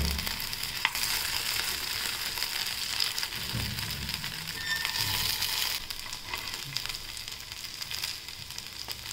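Sabudana vadas fry in an appe pan with a little oil, giving a continuous close sizzle with crackling and faint shifts as they are stirred and turned.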